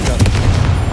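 A Confringo blasting spell explodes in a Harry Potter game on PS5: a dense, booming burst of noise with a deep low rumble that fills the whole second.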